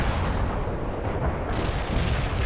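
An artillery strike in the real-time strategy game World in Conflict, with loud, continuous heavy explosions and rumbling booms rolling together up close as one thick barrage.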